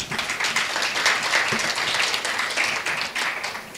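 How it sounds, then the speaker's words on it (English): Dense, loud round of applause for a panel of speakers at an International Day of the Girl Child event in Tanzania, continuous clapping from a large audience with no talk over it. "a big round of applause for our panelists,"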